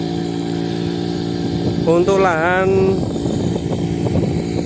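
A Matsumoto floating water pump engine with 1.5-inch input and output pipes runs steadily in a field watering shallots, a constant close mechanical drone under a person speaking.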